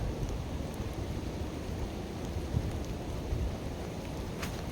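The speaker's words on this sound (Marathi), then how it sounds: "पाऊस आला आपला कॅमेरा भिजेल" Steady rain falls outdoors where cattle are out grazing, a constant even hiss of drops with no break and no voices over it.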